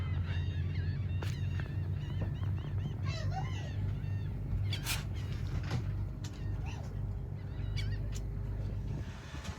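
Seagulls calling near shrimp boats on a waterway in North Carolina, repeated squawking cries at varying distances over a loud steady low engine drone.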